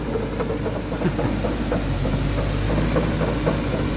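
A new SANY SY200C excavator with a Mitsubishi 4M50 diesel engine runs at a steady low rumble during land clearing, a continuous near drone with faint mechanical clatter and no voices.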